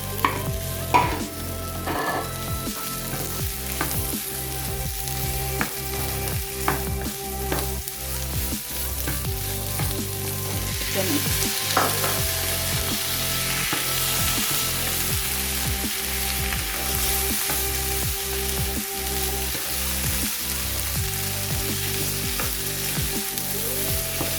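Diced potatoes fry in a pan for samosa filling, a steady close sizzle broken by repeated spoon scrapes and knocks as they are stirred and lightly mashed.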